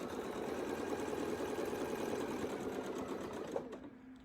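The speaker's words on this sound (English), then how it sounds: "So we'll sew in." A close sewing machine stitching fabric in a steady, rapid mechanical whir with fine rhythmic ticking, running continuously before stopping near the end.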